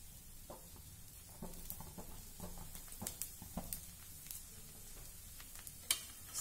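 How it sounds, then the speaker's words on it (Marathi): A thalipeeth, a light Navratri fasting flatbread, fries in oil on a pan over medium gas, giving a faint, steady sizzle with scattered soft crackles and pops throughout. "मध्यम गॅसवर हे थालीपीठ भाजून घेऊया"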